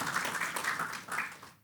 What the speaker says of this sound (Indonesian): Tepuk tangan buat kemuliaan Allah.